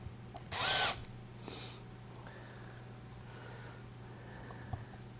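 A power drill gives one loud burst of about half a second as it drives a screw into a pre-finished guitar kit, then a fainter follow-up whir, with quiet workshop handling noise and a low steady hum filling the rest.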